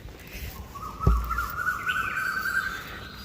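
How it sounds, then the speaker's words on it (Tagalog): Birds outdoors give a few thin chirps and a drawn-out call over a low urban hum, broken by one sharp thump. "mga ibon."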